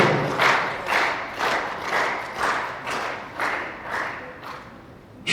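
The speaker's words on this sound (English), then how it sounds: "hands together, please. A round of applause" An audience at a mental health and brain science symposium claps in a steady, rhythmic pattern, with roughly one loud collective beat every half-second or so, close and sustained throughout.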